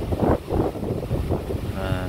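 Blustery wind buffets the microphone on a mountain hillside along the seven-hill Velliangiri trek, roaring steadily throughout in gusty waves with muffled voices faintly beneath.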